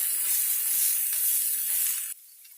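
Steady close sizzling of a spiced pork patty mixture frying in a pan, with faint scraping of stirring, the hiss dropping suddenly quieter near the end.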